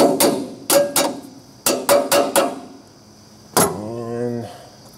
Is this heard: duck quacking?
no